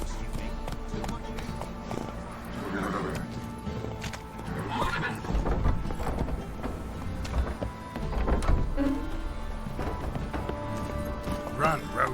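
A horse named Roach in The Witcher 3: Wild Hunt gallops with rhythmic thudding hooves and snorts or whinnies, mixed with game music and character voices talking over it.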